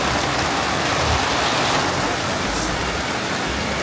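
A downpour of heavy Bali rain roars continuously and close, like a constant hiss of water hitting surfaces, with no talking.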